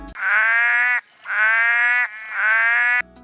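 Black-eyed leaf frog calling, three loud, harsh, duck-like nasal quacks, each about a second long, evenly spaced and close, with no other sound between them.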